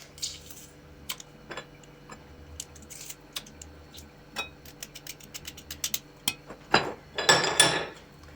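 A garlic mixture with crushed garlic cloves is stirred in a bowl, giving light scattered clinks and taps of a utensil against the dish that grow into a denser, louder scraping burst near the end.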